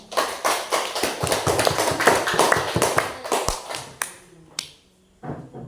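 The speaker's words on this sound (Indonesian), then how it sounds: "Kasih tepuk tangan dulu." A small class claps their hands, a quick uneven patter of individual claps that thins out and stops, followed by a few scattered taps.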